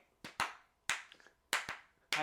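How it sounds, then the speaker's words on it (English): Handclaps in a rock song, sharp isolated claps in uneven pairs and singles, crisp and close with quick decays. "we only need clapping in one song"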